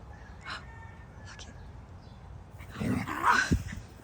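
Dogs in a backyard give a few faint whimpers and whines, then bark more loudly near the end, with a person talking over them.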